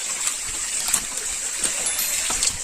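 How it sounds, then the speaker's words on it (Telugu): Running stream water at a hidden waterfall near Hyderabad, flowing rather than still, makes a steady, close rushing hiss with small splashy bursts throughout, and no voices. "స్టాక్ వాటర్ ఏం కాదు ఇది పారిస్తున్నటువంటి వాటర్"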